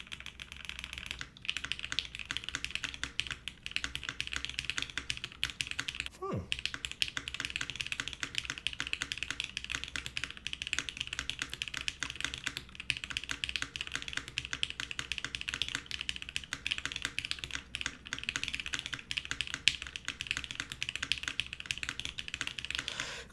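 Sustained fast typing on a shiny computer keyboard, a continuous close stream of crisp key clicks with a quick swishing sound partway through.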